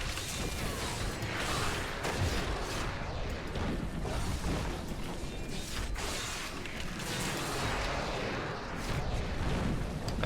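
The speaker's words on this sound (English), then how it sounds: "That's a lot of explosions." Explosions go off in the dungeon action game Diablo 3 Reaper of Souls, a dense, continuous barrage of booms and crunching blasts at fairly even loudness with no pause and no voices.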